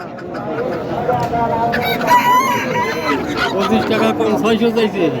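Chickens cluck and call busily in a noisy outdoor market on a Jamuna river char in Nagarpur, Tangail, with people talking over them throughout.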